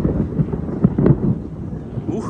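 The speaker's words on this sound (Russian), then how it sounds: "Ух, как гремит, гром гремит." Low thunder rolls from a nearby thunderstorm, a steady deep rumble with a few slightly louder swells and no clear crack.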